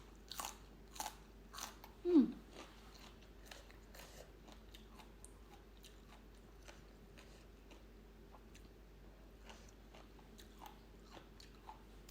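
Someone eats a Thai long bean salad (tam thua) by hand, with soft crunchy bites and chewing that come and go, including one louder crunch early on, close and quiet with no talking.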